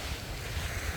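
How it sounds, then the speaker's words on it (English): Surf washing onto a beach on Koh Phangan, Thailand, heard as a steady, low, rolling rush mixed with gusty wind buffeting the microphone over one brief second. "So here we're at the beach"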